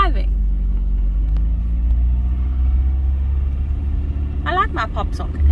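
A car drives through Addo Elephant National Park with a steady low engine and road rumble throughout, while people talk briefly near the end.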